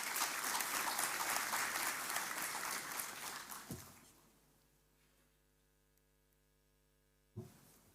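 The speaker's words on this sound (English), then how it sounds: "Please give me a warm round of applause." Applause from a conference audience at a government cloud forum fills the first few seconds, dense and fairly loud, then fades away, leaving a low electrical hum.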